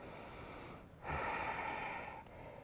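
During a downward-dog yoga pose, one deep, audible breath is drawn in and released through the nose, soft and close, a single slow inhale-exhale cycle with no talking.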